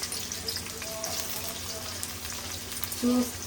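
Onions fry on their own, without spices, in a cooker. A steady, fairly quiet sizzle runs throughout, with a brief louder tone near the end.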